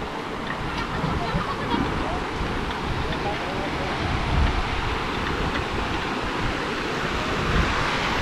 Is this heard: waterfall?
yes